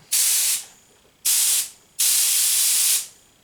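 Three bursts of loud compressed-air hiss from a small Harbor Freight air compressor, a short one, another short one, then a longer blast, each cutting off abruptly with quiet gaps between.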